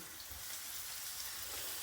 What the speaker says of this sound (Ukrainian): Наливаємо масло рослинного і кладемо на розігріту сковорідку наші синенькі